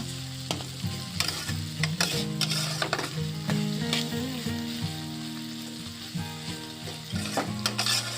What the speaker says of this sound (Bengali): কথা বলতে বলতে ঝিঙে প্রায় ভাজা ভাজা হয়েই গেছে